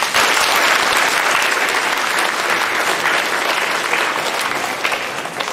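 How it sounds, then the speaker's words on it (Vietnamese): Congregation applauding during a Christmas Mass at a Catholic community in Claremont, California, a loud, dense round of clapping from many people that holds steady and begins to thin near the end. "Xin một tràng pháo tay."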